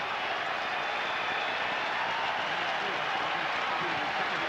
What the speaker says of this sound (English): Listen to this New York crowd.